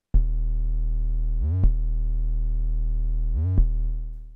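Dry Sublab XL synth bass before any effects: three sustained, clean low tones with a short pitch slide into each new note, loud and alone.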